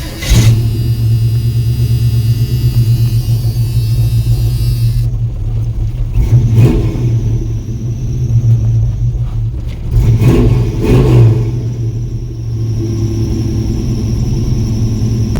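A car engine with a carburetor and choke starts, then runs on a steady fast idle, loud and close, with a couple of brief throttle blips that swell the rumble.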